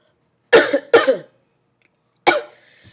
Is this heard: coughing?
yes